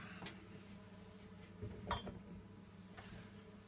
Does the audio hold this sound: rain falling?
no